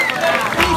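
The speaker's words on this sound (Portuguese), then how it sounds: "Por favor, uma salva de palmas." Audience applause at a live show with dance and a Beyoncé medley, a dense wash of clapping filling the short moment, mixed with crowd noise and voices.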